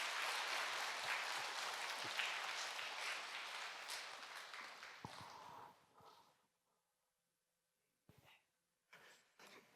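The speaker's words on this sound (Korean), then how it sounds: "우리 하랑이 크게 한번 박수로 축하해 주시기 바랍니다." A church congregation applauds during a Sunday service, loud sustained clapping that fades out around six seconds, followed by quiet and a few scattered claps and thumps.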